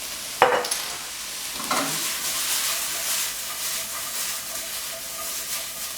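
Quesadilla filling frying in a pan with chili powder, a steady close sizzle and hiss, with a couple of sharp utensil scrapes near the start, no voices.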